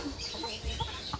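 A chicken clucks in a few short, uneven bursts at close range, with no talking over it.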